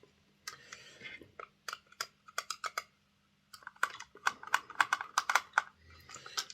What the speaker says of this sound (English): So let's undo these two screws.